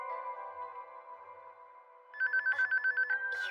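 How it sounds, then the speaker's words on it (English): A phone rings in an anime: after a sustained tonal drone, a rapid electronic trill starts and pulses about eight times in quick succession, clear and fairly loud. "You hear that? Indeed, it's my phone."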